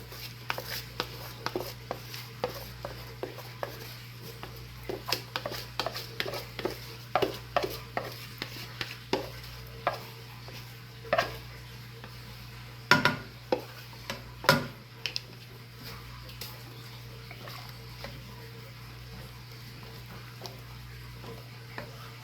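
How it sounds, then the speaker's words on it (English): Rice is stirred in a pot with chicken for dinner, giving close, irregular scraping and clicking strokes over a steady low hum, with a couple of sharper knocks midway. "So now I'm gonna add my rice."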